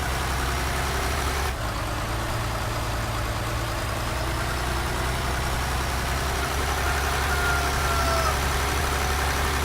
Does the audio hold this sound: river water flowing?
no